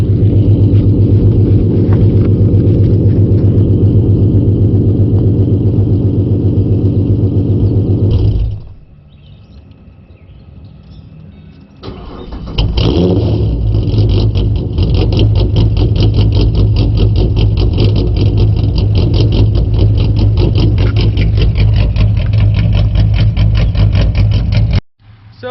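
S197 Mustang 4.0 V6 idling with an idle chop mod switched on: loud, close, lumpy engine rumble with a choppy pulsing rhythm, dipping briefly quieter before the heavy idle returns and continues steadily.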